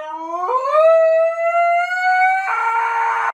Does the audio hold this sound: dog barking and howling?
yes